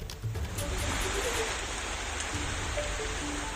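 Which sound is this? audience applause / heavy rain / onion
heavy rain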